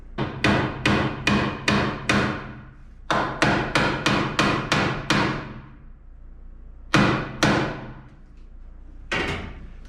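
Hammer blows drive nails to fix a PEX-A water line in place: sharp, close strikes in quick bursts of four or five, then a pair and a lone final hit, each ringing briefly.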